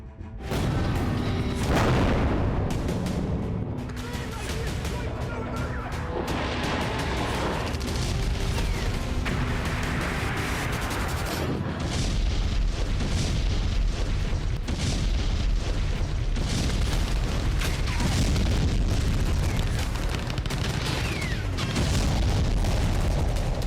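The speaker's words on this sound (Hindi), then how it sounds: "अफगानिस्तान की धरती पर हर तरफ बेहिसाब बम बरस रहे हैं।" Bombs exploding in Afghanistan in a dense barrage of loud booms and rumbling blasts. The bursts follow one another irregularly and overlap into a continuous roar of heavy detonations.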